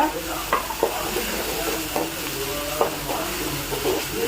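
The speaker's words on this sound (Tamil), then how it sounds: "நல்லா வதக்குங்க. இஞ்சி பூண்டுங்க" Ginger and garlic sautéing with coarse salt in a pan for liver gravy, a steady low sizzle broken by several sharp stirring clinks and scrapes, close and alone.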